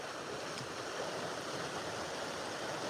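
Rising floodwater rushes around a dam and log jam in a steady, broad roar of flowing water, close and constant, with no talking.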